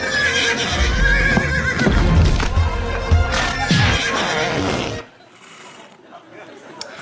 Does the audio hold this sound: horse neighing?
yes